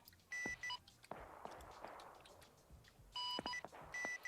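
Bursts of electronic beeping from a helicopter in Arma 3 come in two clusters, separated by stretches of muffled booms and rumbling game combat noise.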